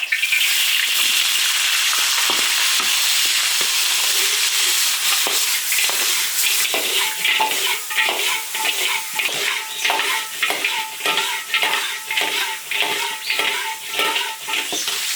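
Air-dried chicken stir-fried in an iron wok, a steady loud sizzle with repeated scraping and clanking of the spatula against the metal, quickening into a busy rhythmic stirring in the second half.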